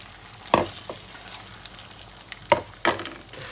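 Eggs scrambling in a generous amount of oil with spinach give a low, steady sizzle, punctuated by several sharp scrapes and clacks of a spatula against the pan at uneven intervals.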